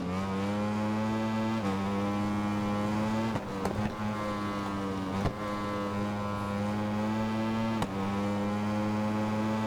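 A motorcycle engine in a Ride 4 endurance race video game drones loudly and steadily, its tone holding and then briefly breaking at a few gear shifts.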